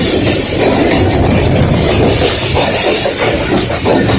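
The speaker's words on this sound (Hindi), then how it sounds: "ये ट्रेन के अंदर का माहौल है।" Inside a moving train, a loud, steady rumble of wheels and carriage noise fills the space, with faint clickety-clack and rattling running continuously throughout.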